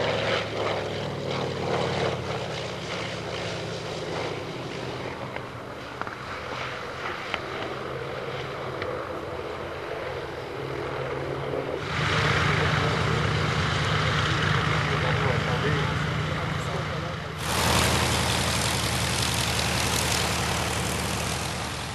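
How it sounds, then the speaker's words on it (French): Engine drone of a vintage Vought F4U Corsair propeller fighter, a steady broad roar that grows louder and fuller partway through, with voices heard over it. "Vous voyez l'avion qui est derrière nous, le Corsair, c'est un mythe."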